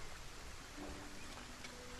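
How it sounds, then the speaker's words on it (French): Steady rain hisses from the Solarpunk survival video game, an even, moderately loud wash of falling drops that continues without a break. "En plus, on peut pas les arroser, il pleut."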